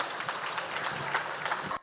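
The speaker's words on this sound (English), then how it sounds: "Can we give them both a wonderful round of applause for the work that they do?" Gala audience at the Halls of St George breaks into brisk applause, a dense wash of many hands clapping that carries steadily and stops abruptly.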